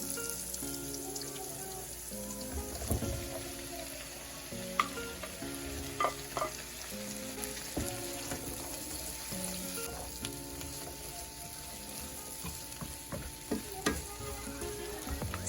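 Okra fries in a pan with a continuous crackling sizzle, punctuated by repeated scraping and clinking of a utensil stirring it, close up and without speech.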